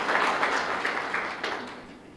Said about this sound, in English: Big round of applause to that family who have created this.